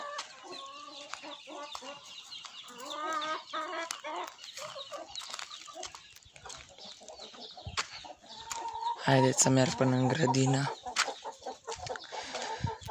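Backyard hens cluck and chatter close by in a garden, with repeated rising calls and one loud, insistent burst of squawks, while a person talks over them at times.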